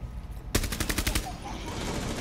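Shooter video game gunfire: a rapid, loud burst of about a dozen shots packed into under a second, followed by a low, steady game hum.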